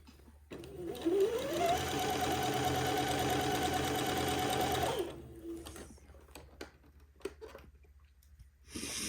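An electric sewing machine runs at high speed while stitching a funeral pall, a steady loud whir lasting about four seconds after a quick spin-up, then stopping, followed by quieter handling noises.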